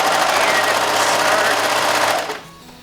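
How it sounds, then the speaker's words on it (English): Serger overlock sewing machine running fast to form a thread chain, a steady loud mechanical whir lasting about two seconds before abruptly stopping. "start sewing the chain through"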